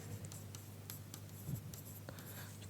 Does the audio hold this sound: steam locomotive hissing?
no